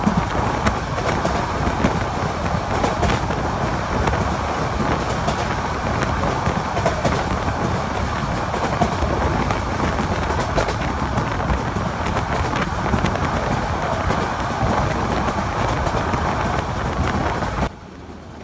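The Parjotak Express runs at night on the line between Cox's Bazar and Dhaka, heard from inside as a steady loud rumble and rattle of the carriage that barely changes, then drops off abruptly at the end.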